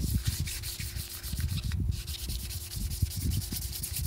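Steady rhythmic rasp of hand sanding a Plasti-Dipped Buell XB90SX motorcycle tank cover, back-and-forth scrubbing strokes continuing throughout at close range, with a brief pause midway.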